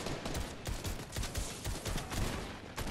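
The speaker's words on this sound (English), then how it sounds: "Don't worry, he's only shooting at me right now." Rapid gunfire in a Fortnite match crackles in dense, steady bursts throughout, with loud overlapping shots that sound close by and keep going without a pause.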